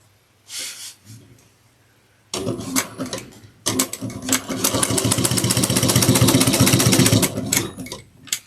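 Sewing machine stitching a basting seam on a sling pack, starting after a short pause and then running loud and steady in fast rhythmic bursts, close up, with no talk.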